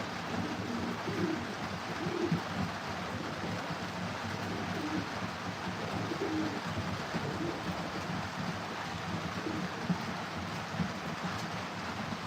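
Racing pigeons in a breeder loft on a rainy day, soft low coos murmuring faintly beneath a steady wash of rain hiss.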